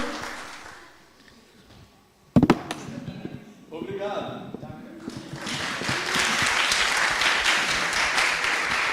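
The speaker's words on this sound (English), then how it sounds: "Please clap your hands." After a quiet stretch, a sharp knock and some voices, an audience at German-Brazilian EdTech Hackathon final presentations breaks into steady, fairly loud applause that fills the second half.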